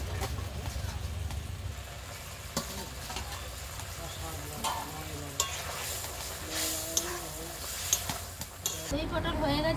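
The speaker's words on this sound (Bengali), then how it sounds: "ঝোল ফুটে উঠেছে।" A curry gravy of fried potol with yogurt bubbles and sizzles in a pan while a spoon stirs and scrapes, a steady close simmer with intermittent clinks throughout.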